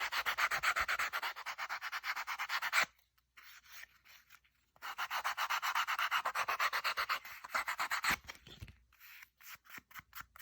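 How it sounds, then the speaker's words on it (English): Close, rapid sanding strokes rub across a paper collage in two long rhythmic bursts, separated by a brief quiet pause with a few light scrapes. "and get this sanded"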